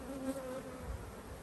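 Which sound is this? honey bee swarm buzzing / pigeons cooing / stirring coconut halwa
honey bee swarm buzzing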